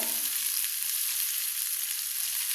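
Green chili paste for a chutney hits hot oil in a pan, making a loud, dense, continuous sizzle that fills the clip from start to finish.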